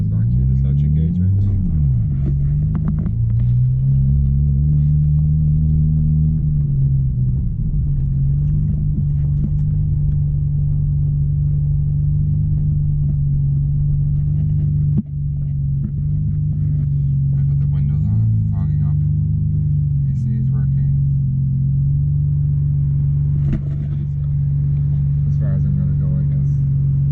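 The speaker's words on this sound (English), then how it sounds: "I'm just going to take it down the driveway instead." A Nissan Skyline GTR, after two years in storage, rolls slowly down a driveway, its engine a steady low rumble with a few gentle rises in revs, close and continuous throughout.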